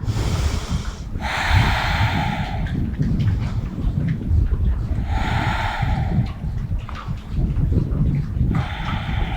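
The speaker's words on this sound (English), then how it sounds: "Take a few breaths." Slow, deep breaths during a yoga session, with long airy inhales and exhales repeating roughly every few seconds, close and fairly loud in a quiet room with no talking.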